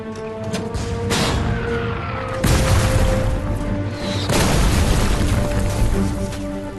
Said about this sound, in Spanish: los dos hombres fueron atacados con fuego de mortero